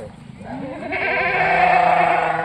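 A Kathewadi goat lets out one long, rising, quavering bleat close by, growing louder and holding to the end.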